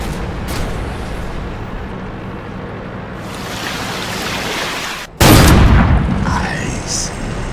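A tank cannon fires in World of Tanks, a sudden loud broadband boom at about five seconds rising over a steady rumbling engine and ambient battle noise, with a voice talking faintly in the background.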